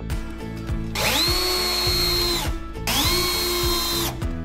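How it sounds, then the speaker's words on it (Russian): A power drill drives self-tapping screws into a wardrobe rod bracket in two loud whirring bursts, each winding up and running about a second and a half, close up with no speech. "Затем крепит его в таком положении саморезами из комплекта фурнитуры."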